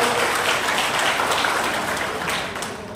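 Audience applause at an Odia Yadav Mahasabha gathering greeting an MLA, Laxman Bag: a dense, steady wash of clapping from a crowd, loud and sustained throughout with no break.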